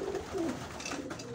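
Pigeons coo softly and repeatedly at a home loft after returning from their flights, a low rolling murmur layered from several birds close by.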